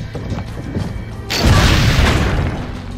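A cannon fires in Assassin's Creed Brotherhood, a sudden loud boom that breaks out midway and rolls on as a heavy crashing rumble, following quieter ambient game noise.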